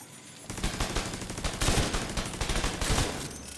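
Rapid automatic gunfire in The Division 2, a dense volley of shots fired at turrets, loud and continuous for about three seconds after a brief quiet start, with bursts swelling and falling.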